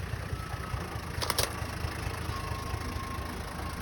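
A Toyota diesel car runs steadily at idle, a low continuous engine rumble with a brief higher burst partway through.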